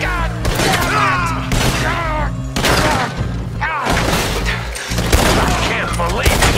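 A chaotic video game shootout in the Rhodes ambush, with bursts of gunfire and heavy thuds mixed in among shouting voices, loud and close, the shots coming in irregular clusters.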